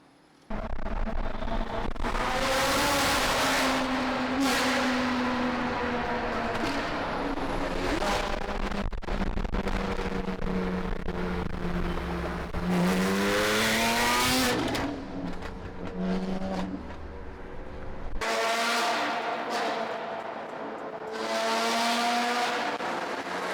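Porsche GT4 fitted with a JCR exhaust starts up and revs hard, loud throaty blips and rising engine sweeps repeating over about twenty seconds, with people talking now and then.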